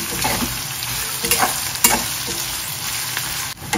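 Chopped onion frying in oil in a pan until pinkish-brown, a steady close sizzle broken by a few sharp scrapes and clicks of a spoon stirring against the pan.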